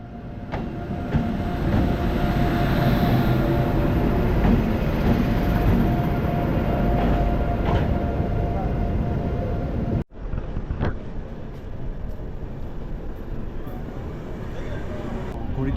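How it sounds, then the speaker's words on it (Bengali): The Kamrup Express pulls out of Malda Town station with a loud, steady rumble and rushing wind noise that drop briefly near the end, then continue more quietly with faint clanks. "আমাদের ট্রেন ছেড়ে দিল মালদা টাউন স্টেশন থেকে"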